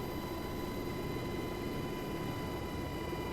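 A UH-60L helicopter taxis in a flight simulator. Its turbine whine and rotor wash make a steady, dense drone with thin high tones, constant and unchanging, with no voices.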